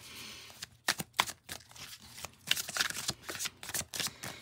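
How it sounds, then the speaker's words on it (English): A deck of Cosmic Tribe or Margarete Petersen tarot cards being shuffled by hand: repeated close, crisp riffling bursts in uneven clusters, some cards slipping loose, with no talking. "I'm trying to give it a good shuffle before I accept it"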